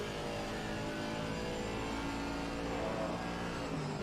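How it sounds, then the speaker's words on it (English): An Aston Martin GT3 race car in Assetto Corsa Competizione drives past with a continuous, loud engine drone that varies slightly in pitch, with no voices. "See that Aston Martin, that just sounds super sexy"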